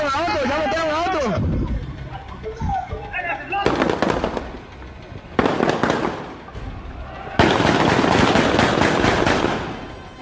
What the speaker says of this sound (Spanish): Están sonando disparos.